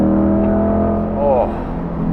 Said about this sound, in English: all that Amano custom exhaust.